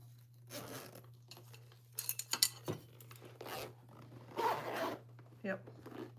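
A metal zipper pull being worked onto the zipper of a sewn bag, giving a series of close, sharp clicks and rattling scrapes in short bursts with pauses, over a steady low hum.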